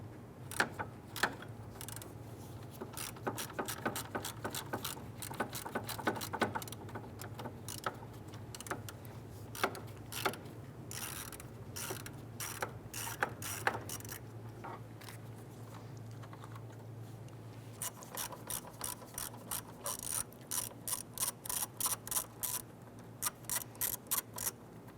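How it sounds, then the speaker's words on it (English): A ratchet clicks in quick repeated bursts while 8mm fan shroud bolts on a 1995-2001 Ford Explorer are loosened and removed, close and crisp over a low steady hum, with short pauses between runs. "Go ahead and loosen and remove those."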